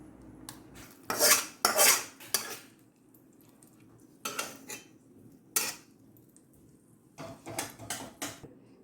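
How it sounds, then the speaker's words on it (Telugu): A metal spoon scrapes and clinks against a bowl in several quick bursts, stirring tempering into tamarind and sesame chutney, separated by short quiet pauses. "పోపు కలిపేసాం ఇందులో చింతకాయ నువ్వుల పచ్చడి రెడీ"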